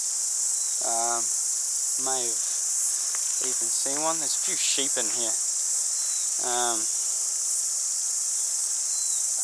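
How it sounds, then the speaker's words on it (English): Loud, continuous cicada buzzing with a steady pulsing shimmer fills the air at the Whanawhana Cable fishing spot, while someone talks nearby at intervals over it. "as you may be able to hear, the cicadas are deafening."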